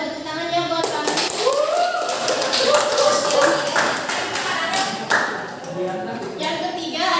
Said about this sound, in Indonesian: tepuk tangan ya buat kami